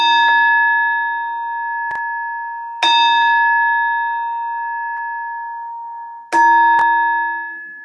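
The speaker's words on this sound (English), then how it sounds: "Call that the spirit bell." A handheld bell, called a spirit bell, rings three times during a tarot reading, each strike bright and clear with a long shimmering ring that slowly decays, the last strike loudest; no talking over it.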